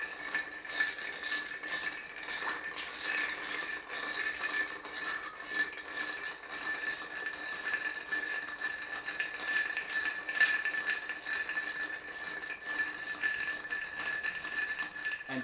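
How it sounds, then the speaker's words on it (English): Ice rattles and clinks continuously in a glass as a spoon stirs an Old Fashioned whiskey cocktail, with steady, close tinkling and no pauses. "All there is to do now is to give it a stir until you reach the right level"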